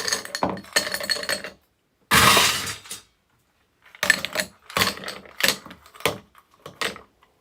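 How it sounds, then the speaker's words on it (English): Ice dropped into a tall highball glass, heard as bursts of clinking and rattling cubes with a loud scooping rush in the middle, close and without talk. "Put some ice in there."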